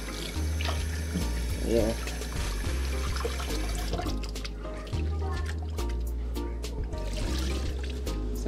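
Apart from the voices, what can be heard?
water running while washing rice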